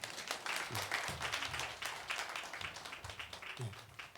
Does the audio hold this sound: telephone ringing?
no